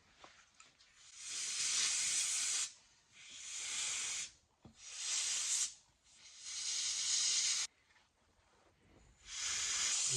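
An airbrush mists paint onto a carved ocellated turkey head in five separate bursts of soft, airy hiss, each a second or two long and broken by short quiet gaps.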